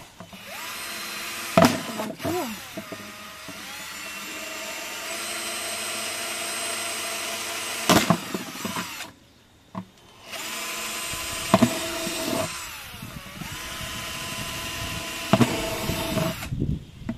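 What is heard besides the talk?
electric drill drilling drainage holes in a plant pot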